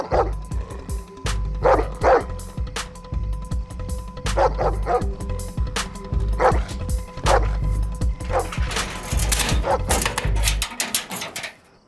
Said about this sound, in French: Rex, tu veux bien arrêter d'aboyer sur tout ce qui bouge